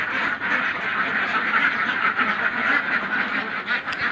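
Laying ducks on a caged duck farm quack in a loud, continuous mass chorus with no pauses.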